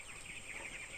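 Flock of twenty-day-old broiler chickens on a farm, faint continuous clucking and peeping over a constant hum, brief and with no talking.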